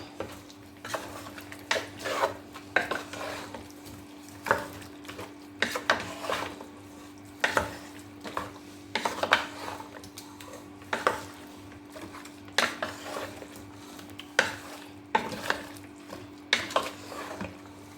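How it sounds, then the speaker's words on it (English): Pomo (cow skin) stirred in a pot while making nkwobi, with a steady run of scraping, clinking utensil-on-pot strokes at a moderate pace, close by, and no talking. "I'm going to add our pomo now. And I'm going to stir."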